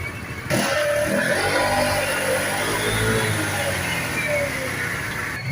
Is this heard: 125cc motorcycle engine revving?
yes